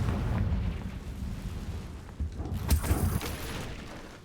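Confringo fire spell cast during an Acromantula fight in Hogwarts Legacy, a burst of booming blasts around the middle, loud and rumbling over a constant low game noise with no voice.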